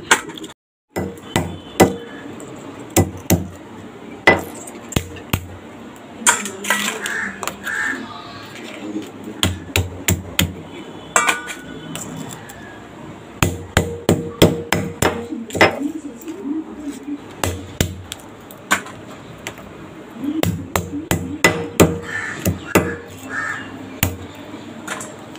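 Crab mouths being pounded to break them for crab masala, sharp irregular knocks in bursts, close and loud, with crows cawing in the background and brief talk.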